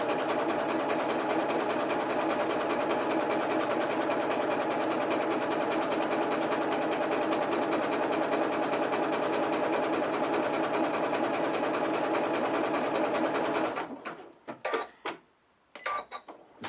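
A sewing machine stitches dense satin stitches in a fast, steady mechanical whir that runs unbroken and close, then stops abruptly near the end, leaving a few short clicks and taps.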